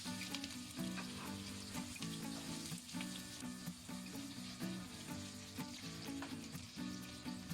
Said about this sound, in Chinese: 锅中留底油，油热以后下入蒜末和洋葱